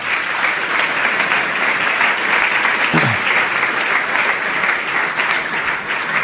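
Steady, dense applause from a conference audience for panelists after a banking discussion, continuous and fairly close, with no talk over it.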